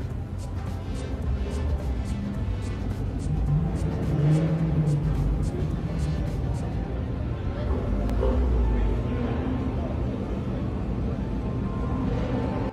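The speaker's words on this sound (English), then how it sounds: "There are cars running everywhere." Cars rumble and rev all around at the Driven Toronto 2021 car meet, a dense continuous engine roar with low throbbing idles and occasional rising revs, fairly loud and close, with crowd noise in the background.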